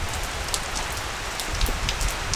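Rain pours steadily onto a pier on Koh Mak, Thailand, a dense, even hiss of drops striking surfaces with occasional louder close splatters, no voices.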